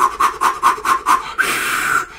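Close, loud Wim Hof style breath work: six quick, forceful breaths in a steady rhythm, then one long sustained breath, with no words spoken.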